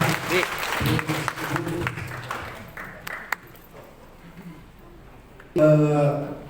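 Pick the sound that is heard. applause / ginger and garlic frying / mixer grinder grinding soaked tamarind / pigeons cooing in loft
applause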